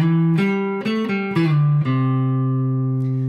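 Short electric guitar phrase with a few picked and bent notes ending on a sustained ringing note, alone and clear.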